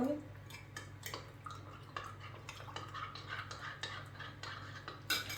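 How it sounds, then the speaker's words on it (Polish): Pork goulash with cream being stirred in a pot, faint scraping and clinking of a utensil against the pot over a steady low hum. "Dokładnie to wszystko mieszamy."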